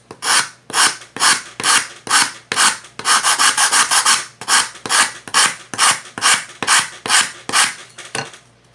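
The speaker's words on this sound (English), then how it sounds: "If it does, that means we're getting very thin, and it's time to stop sanding." Sandpaper works the inside of a handmade wooden Native American flute in a quick series of about fifteen close, scratchy rasping strokes. The strokes run briefly faster and denser in the middle, with no voices.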